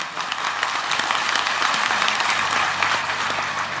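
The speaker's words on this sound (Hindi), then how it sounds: "महाराज जी ये तालियां बता रही हैं कि आपकी कितनी आवश्यकता है हमारे देश को" An audience at a religious discourse gives sustained, loud applause, a dense even wash of clapping with no gaps.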